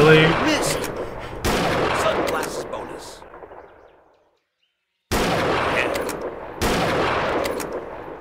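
Rifle shots at animals in the hunting game Deer Drive: two sharp blasts close together, a fading tail into silence, then two more shots after the pause.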